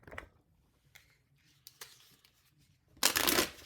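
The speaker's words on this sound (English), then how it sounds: "Let me do a little bit of shuffling here." A deck of tarot or oracle cards is shuffled for a card reading: a few soft isolated riffles and taps, then a loud, close burst of rapid shuffling near the end.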